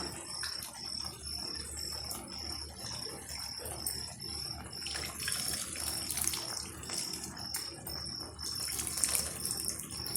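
Tamarind extract is poured into a garlic curry, a soft steady trickle and splash of liquid heard nearby under a continuous high chirping of crickets.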